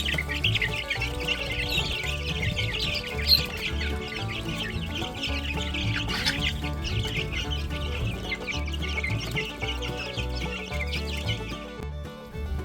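Many breeder chickens cluck and squabble continuously at close range while scrambling for feed, a busy, overlapping flurry of clucks with occasional sharper calls and no talking.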